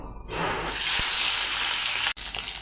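Tengra fish coated in turmeric and salt dropped into hot mustard oil, a sudden loud hissing sizzle that swells and holds steady, close by, with a brief break near the end and no talking.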